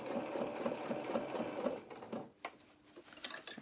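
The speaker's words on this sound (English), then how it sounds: "going to carry on nice and slowly because we're top stitching" Sewing machine slowly top stitching along the hood of an anorak, a steady rhythmic needle run for nearly two seconds, then stopping, leaving quieter handling noises.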